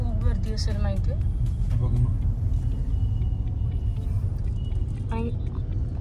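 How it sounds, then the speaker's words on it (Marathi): A traffic jam on a crowded city road makes a steady, loud low rumble of idling and creeping cars, with voices chattering nearby throughout. "आणि पूर्ण ट्रॅफिक जाम आहे इथे"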